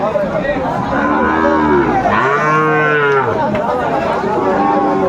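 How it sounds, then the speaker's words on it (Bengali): A Sahiwal bull calf at a cattle market gives one long, loud, close moo that rises and falls over a couple of seconds, with crowd chatter in the background. "শাহিওয়ালা ষাঁড় বাচ্চা"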